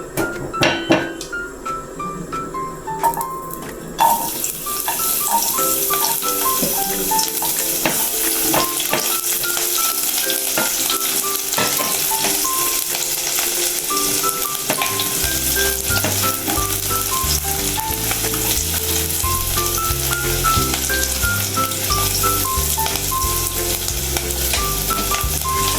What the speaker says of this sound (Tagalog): mag-ihisa na tayo ng sibuyas at bawang